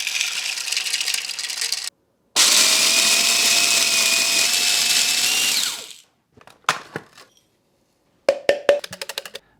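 Cereal grinding in a kitchen blender, with a short loud whir, a pause, then a sustained high-pitched motor roar for several seconds, followed by scattered clattering bursts as the blender starts and stops.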